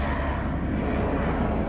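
A helicopter passes overhead on a clear day, its engine and rotor making a steady, loud, broadband rumble that holds without a break and covers the whole moment.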